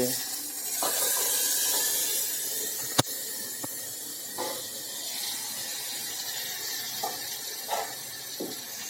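A soft, steady hiss of cut vegetables sizzling in oil for a tempering, with occasional faint clicks and one sharp knock, nearby and fairly quiet.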